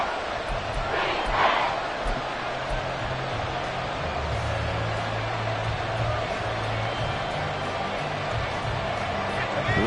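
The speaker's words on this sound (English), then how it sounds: "This crowd doing all they can." A football stadium crowd roars continuously in the fourth quarter near the goal line, a dense wall of cheering and shouting that swells early and stays loud throughout beneath a commentator's voice.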